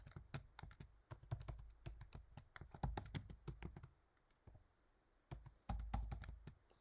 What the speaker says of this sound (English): Then you sign the form by just typing.